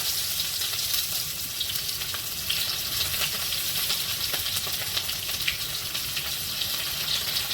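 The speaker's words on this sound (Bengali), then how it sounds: "এবারেতে পেঁয়াজগুলো দিয়ে দিচ্ছে।" Onions sizzling in hot oil in a wok with bay leaves and whole cumin, producing a steady hiss and crackle close by throughout, with no voices.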